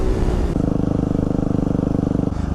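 A motorcycle pulling a wheelie, engine held at a steady, loud rev with a fast pulsing throb that shifts up partway through and eases near the end, close by with no talk.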